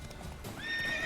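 A horse in The Witcher 3 whinnies loudly and clearly, the rising neigh ringing out over low hoofbeats in the game world, with no talking.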